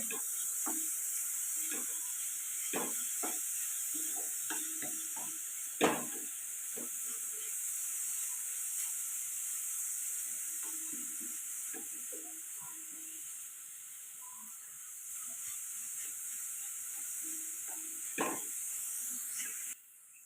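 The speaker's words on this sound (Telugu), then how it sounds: "ఇప్పుడు ఇది బాగా కలుపుకొని ఫ్రై చేసుకుందాం నెయ్యిలో బాగా ఫ్రై అయితే చాలా టేస్టీగా ఉంటుంది" Carrot halwa is stirred and fried in ghee, giving a soft, continuous hiss broken by frequent scraping clicks of a spoon against the pan, with two sharper knocks along the way.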